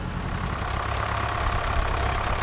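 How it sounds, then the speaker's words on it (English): A vintage tractor engine idles steadily up close, a loud, continuous low rumble with a faint rhythmic knock and no voices. "These tractors are vintage tractors"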